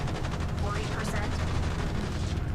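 Ship's guns fire in the space game Genesis Alpha One: a dense, continuous rattle of rapid shots that stays loud and unbroken throughout.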